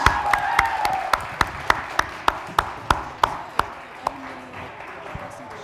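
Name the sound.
audience applause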